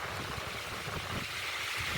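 Strong wind blows outdoors, a steady loud rushing roar buffeting the microphone with no pauses throughout.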